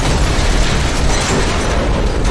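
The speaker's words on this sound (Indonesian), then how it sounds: "Dan mobil oleng hingga meledak seketika." A car swerves and explodes in an action film, Extraction: a loud, sustained fiery blast and rumbling roar filling the whole stretch, dense and close, with no voices.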